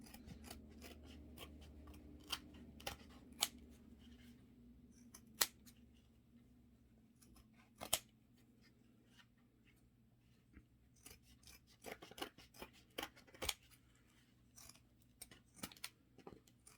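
Scissors make repeated crisp, quiet snips while trimming paper for handmade gift boxes. The cuts come irregularly, with a faint low hum and soft rustling between them.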